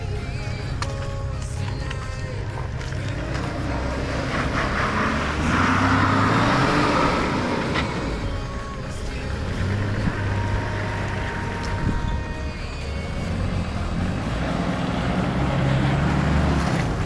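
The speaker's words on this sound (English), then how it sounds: "it's now time for Baz to come through in the 79." A Toyota Land Cruiser 79 four-wheel drive crawls along an off-road track, its engine droning steadily at close range, rising and falling with throttle, with scrapes and knocks from the underbody.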